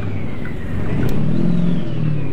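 Truck engine revving in neutral in American Truck Simulator, a loud, close diesel drone that rises slightly in pitch and holds steady under the revving.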